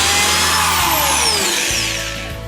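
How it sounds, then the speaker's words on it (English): A power drill with a 5/8-inch bit whines loudly up close, its pitch sliding downward as the bit bores through plywood, then easing off toward the end. "Now I have my 5/8 inch drill bit"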